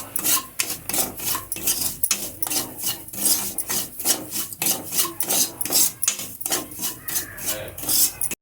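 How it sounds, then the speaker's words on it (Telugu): Bombay rava (semolina) roasting in ghee is stirred in a pan, giving repeated close scraping and rasping strokes of a utensil against metal in a steady rhythm, with no talking. "ఇది బాగా గోల్డెన్ బ్రౌన్ కలర్లోకి వచ్చే వరకు వేయించుకోవాలండి."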